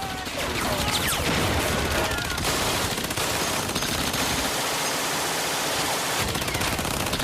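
Dense, continuous gunfire and rattling bursts from a Normandy beach landing, machine guns firing in a sustained roar with no pauses, loud and close throughout.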